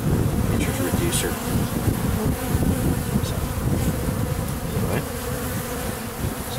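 Bees fly in a dense swarm around a hive entrance, a loud, continuous buzzing hum close to the microphone with some wind noise, and a voice talking at times.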